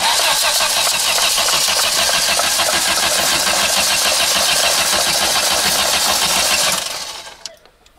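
A newly fitted engine in a VW Jetta Coupe is cranked over, giving loud, rapid rhythmic churning for about seven seconds before it cuts off abruptly and fades out.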